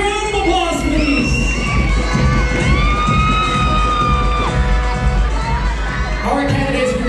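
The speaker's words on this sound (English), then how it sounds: "can we give them a big, big round of applause, please?" A pageant crowd at the Mr and Ms Rizal 2024 swimwear competition breaks into loud, sustained cheering, shrieks and applause, continuous and close throughout.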